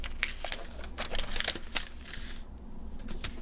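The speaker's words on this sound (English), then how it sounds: "And then you're going to fold the triangle in half." Paper being folded and creased for an origami box, a run of close, crisp crinkles and rustles with sharp snaps of creasing, steady handling noise without talk.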